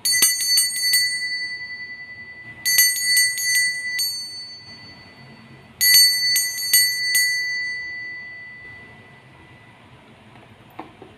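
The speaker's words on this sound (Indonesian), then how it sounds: "Di sini kita akan memulai dengan ditandai lonceng berbunyi." A small bright bell is rung in three separate bursts of quick repeated dings, each burst leaving a ringing tone that fades slowly, close and clear in a quiet room with no talking.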